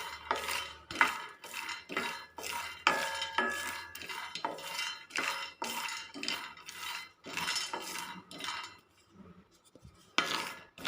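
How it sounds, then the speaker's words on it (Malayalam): Peanuts being dry-roasted in a pan, stirred and scraped steadily with a metal spoon, giving repeated close scraping and clattering strokes in an even rhythm with no talk. "നമുക്ക് കുറച്ച് നിലക്കടല വറുത്ത് കൊടുക്കാം"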